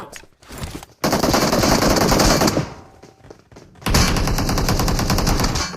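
Bursts of rapid automatic gunfire in PUBG Mobile, two long sustained volleys separated by a quieter pause, loud and close, like game weapons firing.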